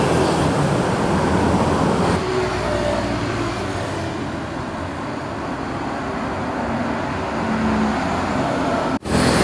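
A Scania tour bus passes along a busy road, its engine a steady loud rumble amid continuous traffic noise for several seconds, with a brief dip near the end.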